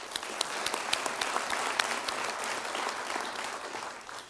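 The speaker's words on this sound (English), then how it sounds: "Please give a big round of applause for Andrew Reed." An awards ceremony audience breaks into sustained applause, dense clapping from a large crowd holding steady and loud before tapering slightly at the end.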